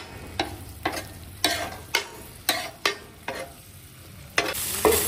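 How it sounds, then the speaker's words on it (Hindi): Tawa qeema stir-fried in ghee for a Lahori breakfast: a low sizzle under regular sharp scraping strokes of a spatula on the hot griddle, about eight close, rhythmic bursts. "घी लगा देंगे अब 3 टेबलस्पून। अब इसकी भुनाई करेंगे फाइनल, अच्छे तरीके से भून लें।"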